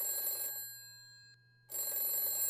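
A telephone bell rings in two bursts separated by a short silence, loud and close, with no voices.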